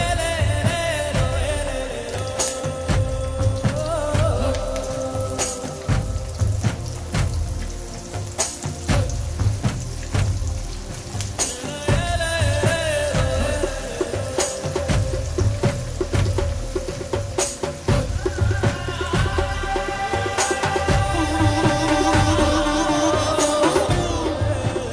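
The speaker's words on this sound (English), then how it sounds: "And then we can start frying the plantain chips." Plantain chips frying in coconut oil for Kerala-style banana chips, a steady crackling sizzle with dense popping bubbles running throughout, close and fairly loud, with no talking.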